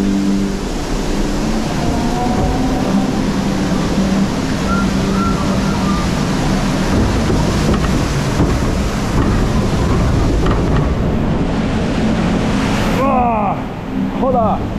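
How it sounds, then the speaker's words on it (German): Water surging and crashing around a river rapids ride boat at the Fort Fun amusement park in Bestwig, a loud continuous rushing wash with wind noise, and a brief shout near the end. "Da kam voll die Welle rein, hast du gesehen?"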